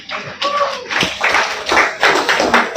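Small audience at a National Entrepreneurship Day session clapping for a participant who answered well, a handful of near, uneven bursts of hand claps rather than a full ovation.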